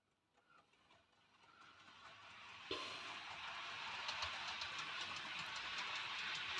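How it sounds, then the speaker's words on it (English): Model train pulling a rake of detailed steel cement wagons around a layout, a faint rolling hum building into a steady, close clattering run with dense rhythmic clicks of wheels over track joints. "if I run a train round, you'll see what else I've purchased"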